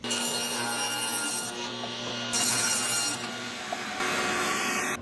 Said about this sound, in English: So I'll get busy and rip the plywood